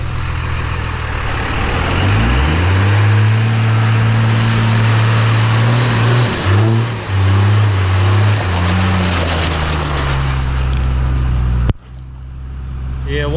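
A stock 12-valve Cummins diesel in a five-speed dually truck revs hard while stuck in mud, its deep engine note rising and falling through several surges over constant loud splashing and churning, then cutting off abruptly near the end.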